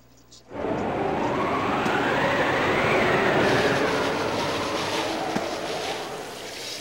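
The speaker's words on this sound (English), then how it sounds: "Train headed for Station Square will be departing soon." Train departing a station in the Sonic Adventure video game, a rumbling, rising roar of rail wheels and carriages that swells quickly and holds steady, loud and close, with no talking.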